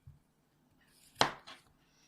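A single sharp knife chop through a button mushroom on a board, quiet and close, followed by a softer second cut in an otherwise silent room.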